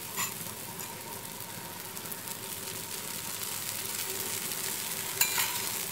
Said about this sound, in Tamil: நம்ம அடுத்த தோசை போட்டுக்கலாம்.